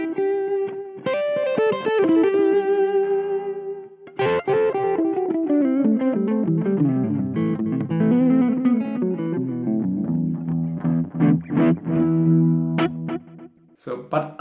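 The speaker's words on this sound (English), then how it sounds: "Let's try delay 4 for example." Electric guitar through the delay effect of a Harley Benton Airborne Go wireless modeling amp, distorted notes and chords played with repeating echoes trailing each phrase, close and loud.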